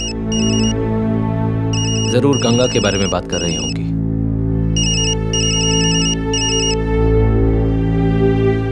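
A telephone rings in repeated electronic bursts, loud and close, pausing while someone speaks over a low musical score, then ringing again in several quick trilling pulses.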